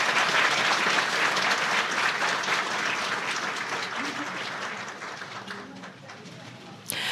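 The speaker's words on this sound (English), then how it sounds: "please give a warm round of applause to all of the lecturers present" An audience gives a sustained round of applause for the lecturers at the close of a question-and-answer session, dense and loud at first and thinning slightly toward the end.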